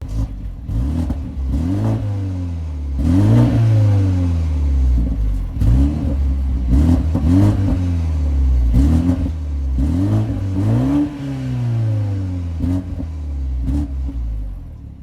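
BMW 330i F30 with a 4-cylinder turbo engine driving through the city, its engine revving up and easing off in repeated cycles, loud and close with a steady rumble, no talk.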